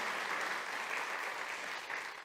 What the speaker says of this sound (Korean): 우리 자녀들을 위해서 우리 감사와 격려의 박수 한번